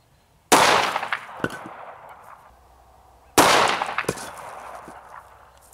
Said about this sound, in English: now we're going to shoot the concrete blocks. First up is the 9mm.